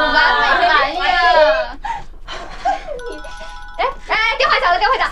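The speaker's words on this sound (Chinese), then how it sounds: "电话响了，电话响了" A ringing telephone in a Chinese TV drama scene gives a brief electronic tone midway through, mostly under lively female conversation and laughter.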